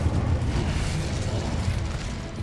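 A fire spell erupts in a fantasy wizard-school action game, a loud, continuous roaring whoosh of flames with heavy low rumble that sustains without pause.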